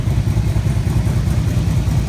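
A 2004 Harley-Davidson Ultra Classic FLHTCUI engine running, a close, loud, steady low rumble with a rapid uneven pulsing beat and no voices.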